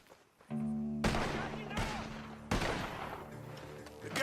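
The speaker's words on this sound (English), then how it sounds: "The gunshots are coming from that barn!" Rapid gunfire bursts from a barn in Red Dead Redemption 2, loud and close, with a sustained volley followed by a second burst after a brief pause.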